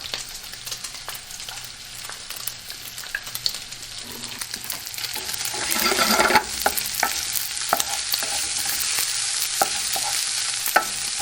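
Garlic and shallot fry in a pan for a baked clams with bacon and peppers dish, a continuous close sizzle broken by repeated scraping stirs and clinks that swell into a louder hiss midway.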